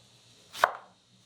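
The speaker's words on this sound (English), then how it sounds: "And then just start chopping." One sharp knife chop lands on a cutting board as an onion is cut, a single crisp thud in an otherwise quiet moment.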